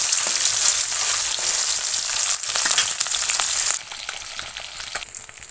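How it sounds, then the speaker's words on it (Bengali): Nyados fish fry in hot oil in a wok, giving a loud, steady crackling sizzle with small spattering pops that thin out slightly toward the end. "নেদস মাছটা আগে তেলের মধ্যে দিয়ে ভেজে নেব।"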